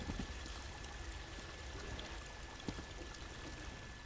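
Water flows steadily in a fantasy tomb in The Elder Scrolls Online, a dense continuous rushing wash with no pauses, moderately loud and close, with no voices over it.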